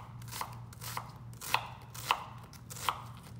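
A knife dices an onion into quarter-inch pieces on a cutting board, with about five crisp chops spaced roughly half a second apart, the later ones louder, against a low steady hum.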